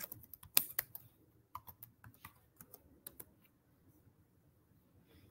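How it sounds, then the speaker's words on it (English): Quiet, close typing on a computer keyboard, with irregular clusters of light key clicks and short pauses between bursts, heard alone without talk. "Let me type it up for you."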